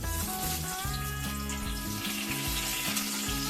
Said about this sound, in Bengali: এই কড়াতে যে তেলটা ছিল এই তেলটার মধ্যে আমি ফোড়ন দেবো। দুটো তেজপাতা